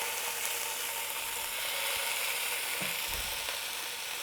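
Sausage fries in a pan, giving a steady, fairly loud hiss of sizzling with a few soft knocks and clicks toward the end, with no talking.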